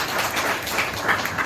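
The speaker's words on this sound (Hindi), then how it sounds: "जोरदार तालियां बजाइए।" Audience applause at a school merit ceremony honoring top state exam students, a dense, steady wash of many hands clapping throughout with no voices on top.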